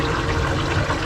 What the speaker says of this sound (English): I'm gonna rinse this off.